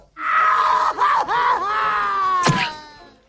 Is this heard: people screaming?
yes